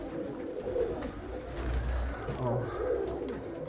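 Domestic pigeons coo steadily in a loft, a dense overlapping chorus of low throaty calls that runs continuously at moderate loudness with no talk over it.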